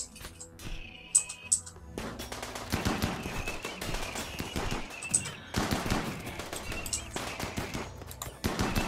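Gunfire in the Rimworld video game, with rapid bursts of automatic shots and scattered single cracks, sometimes in dense volleys and sometimes broken by short pauses, loud and close with no talk.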